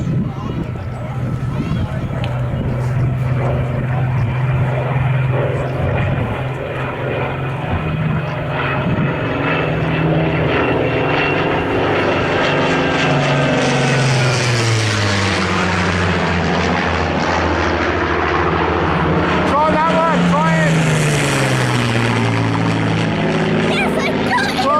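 WW2 Spitfire and Hurricane propeller fighters make a flypast at a WW2 Day event at Berrington Hall, a loud, sustained engine drone that swells and shifts pitch as they pass close overhead, with spectators chatting throughout.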